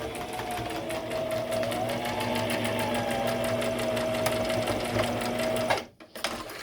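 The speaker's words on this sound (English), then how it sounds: "Okay, so you're gonna sew here at the edge of your presser foot." A sewing machine stitches strips of mask fabric at the edge of the presser foot, running in a steady, close, rapid whir for nearly six seconds before stopping abruptly, followed by a brief clatter.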